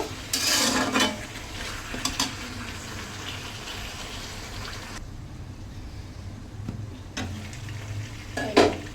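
Chicken pieces coated in yogurt, lemon and spices fry in oil for a wedding-style chicken roast, with a soft sizzle under bursts of loud stirring and spoon scraping against the pot, some quieter gaps between.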